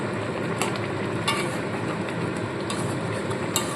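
Fish curry being gently stirred after a final sprinkle of garam masala, made with bhola fish and spring onion stalks. A steady low simmer and sizzle runs throughout, with a few soft spoon taps against the pan.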